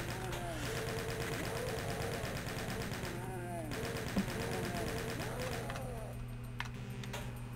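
Rapid chaingunner gunfire rattles through a level of Doom II, a fast continuous stream of shots behind a droning hum and game music, with a single louder pop near the end.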